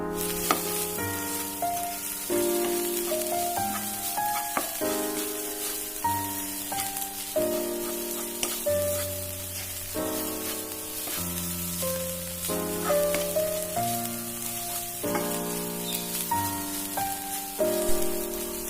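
Chili, coriander and turmeric powders roast in a pan for a soya chunks kurma, a continuous sizzle under a layer of melodic background music, with no talking.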